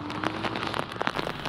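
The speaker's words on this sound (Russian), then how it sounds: "Начался нескончаемый дождь, который лил на протяжении всей поездки." Rain pours down in a dense, steady patter of drops striking a surface, close by and constant.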